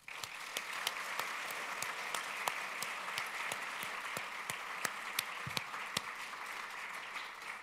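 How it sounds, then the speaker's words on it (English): Audience applauding at a 2018 closing ceremony for finalist teams, their coaches and mentors, a dense, steady wash of many hands clapping throughout with sharper individual claps standing out. "let's give them a round of applause"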